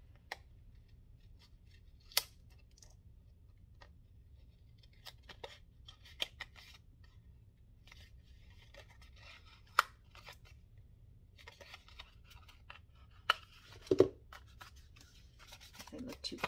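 Scissors snip away jagged edges of paper in a series of short, sharp, separate cuts that are close but quiet, with faint speech and rustling between them.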